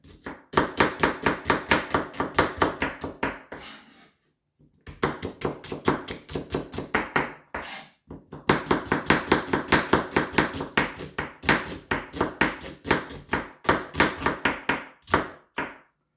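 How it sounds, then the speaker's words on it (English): A knife slices an onion into thin slices on a cutting board, a quick, steady run of crisp taps in close bursts, with a few short pauses. "Our onion is totally sliced in thin slices."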